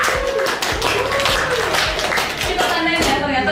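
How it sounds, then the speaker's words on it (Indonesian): Spaced, punchy claps sound every half second or so, loud and close, mixed with voices and a tonal background. "tepuk tangan"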